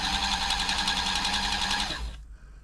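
A freshly oiled Toyota 2600 domestic sewing machine runs at a fast, even rattle for about two seconds, then winds down and stops, loud and close with no talking.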